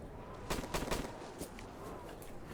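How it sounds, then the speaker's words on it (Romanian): Gunfire in the Wild West Roblox game, a few sharp cracking shots clustered close together, fairly loud over a dense, noisy game background. "Se aude împușcături, chestii de-astea."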